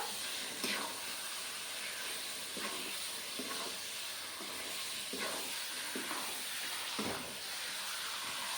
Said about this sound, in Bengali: পাঁচ মিনিট মতন ভেজে নেবো